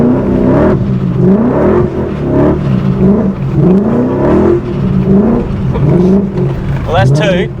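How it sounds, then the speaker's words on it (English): Supercharged E39 BMW M5 engine doing grass donuts, revving hard close by in repeated rising and falling sweeps, with voices now and then over the engine. "I'll pull in here because you're going to do grass donuts."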